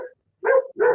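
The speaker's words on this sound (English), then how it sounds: "this is you don't stop that dog" A dog barks twice in quick succession, close and loud, with brief silence before the barks and no speech.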